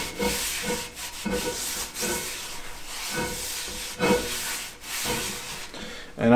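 Oil being rubbed around the inside of a cast iron pan during restoration and seasoning, a steady scraping, rubbing swish with repeated strokes and brief louder swells, close and alone.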